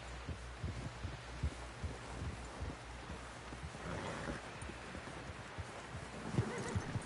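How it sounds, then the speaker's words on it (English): A horse's hooves clip-clop in an irregular series of sharp knocks, with a neigh and a low rumble of rain behind, fairly faint with no talk. "Someone help John down off this horse."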